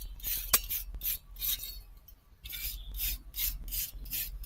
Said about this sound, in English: I'd grab that brush and try and see if you can't get some of that gunk off of there.